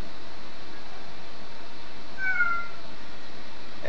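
A little girl imitates a cat's meow with one short, faint mew late in the moment, set against quiet background hiss.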